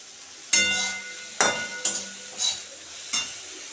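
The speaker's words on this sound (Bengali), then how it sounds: "ভেন্ডিগুলো লাল লাল ভাজা হয়ে গেছে" Okra fries in a pan while a spatula stirs it, several sharp metallic scrapes and clinks over a steady close sizzle, with no voices.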